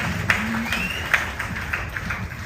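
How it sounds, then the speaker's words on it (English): An audience at a Ramayan Yagna at Jalaram Mandir claps in a steady round of applause, a dense, moderately loud patter of many hands with a voice faintly present beneath it. "Please give him a round of applause."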